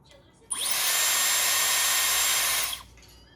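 A Dyson hair dryer switches on with a sharp rise into a loud, high-pitched whirring whoosh, runs steadily for about two seconds, then winds down and stops, close to the listener with no speech over it.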